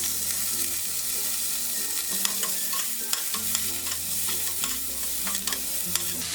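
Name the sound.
shallots, garlic and ginger sautéing in coconut oil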